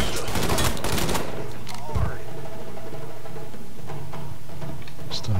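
Gunfire in the Mafia III video game: dense bursts of shots crackle loudly in the first second, then scattered single shots and a distant rumble continue under a steady low game hum.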